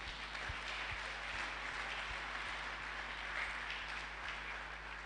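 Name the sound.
church congregation applauding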